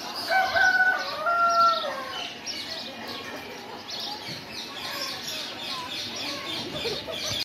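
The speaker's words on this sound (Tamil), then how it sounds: "நாட்டுக்கோழி" Native country chickens cluck and a rooster crows nearby, with scattered bird calls over an outdoor background at a farm mini zoo in Al Wakra, Doha, Qatar.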